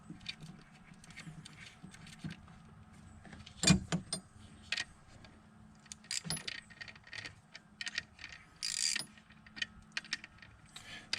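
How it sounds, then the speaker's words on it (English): A ratchet loosening a 13 mm nut on a fourth-generation V6 alternator: faint metallic clicks and tool handling, a sharper clank near the middle, and scattered jangly mechanical taps in a quiet garage. "I can just get rid of that nut right there."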